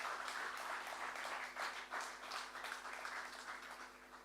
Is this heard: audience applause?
yes